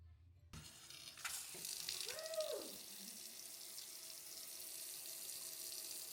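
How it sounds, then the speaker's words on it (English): A newly installed kitchen faucet switches on with a sudden rush, then water runs in a steady hissing stream into the sink, close and continuous with no talk. "I turned the water back on and success"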